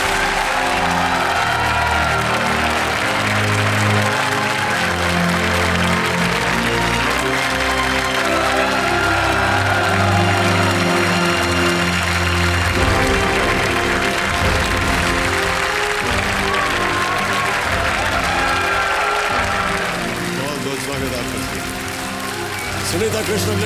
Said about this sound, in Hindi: तालियों के साथ उनका स्वागत है।